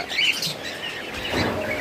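Caged pet birds chirp and tweet in quick, high bursts, fairly close, over a soft background hum.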